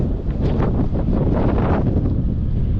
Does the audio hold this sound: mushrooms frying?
no